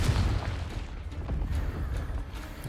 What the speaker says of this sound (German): Es explodiert.